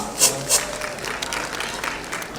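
Brief, dense applause from an award show audience at the Dadasaheb Phalke Award ceremony, with a couple of sharper accents early on.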